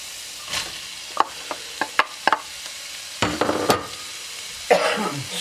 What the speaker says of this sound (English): And now we're going to add our mushrooms and our onion